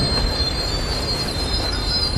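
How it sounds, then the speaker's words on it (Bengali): A train rolls into a station with a steady metallic wheel squeal and a rumbling rattle, loud and continuous, with no voices. "হুইসেল বাজিয়ে ঘটাং ঘং শব্দ করে রক্তপুকুর স্টেশনে প্রবেশ করল একটি ট্রেন"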